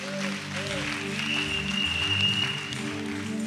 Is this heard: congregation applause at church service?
yes